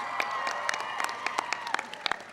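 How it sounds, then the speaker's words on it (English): Applause from an audience at an evening astronomy event on a lawn, sparse, distinct claps ringing out in an irregular patter, moderately near and fairly light. "So give John a big round of applause"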